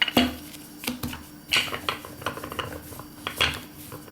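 Homemade tortilla dough being rolled out thin into flatbreads, with irregular close knocks and clatters of utensils against a work surface in a kitchen.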